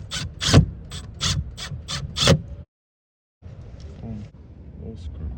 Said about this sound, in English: Now you can screw back in the 2 screws.